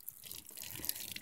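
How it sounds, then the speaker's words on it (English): Water poured onto the ground to rinse soapy hair, a short faint splashing trickle with scattered drips, quiet and close. "She's going to rinse it on the ground so she doesn't get soapy water going back into her hair."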